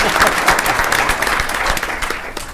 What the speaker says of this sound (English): Let's give Amy and her office a round of applause